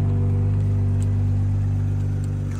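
A 2022 BMW X5 xDrive40i engine runs steadily at idle, a loud, close, even drone with a smooth low hum and no one talking.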